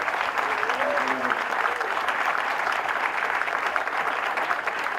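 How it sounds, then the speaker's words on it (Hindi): Steady, moderately distant audience applause fills the room at a primary school's Standard II annual day celebration, continuous from start to finish, with a brief voice heard faintly near the beginning. "फिर से एक बार इनके लिए तालियां सबके लिए"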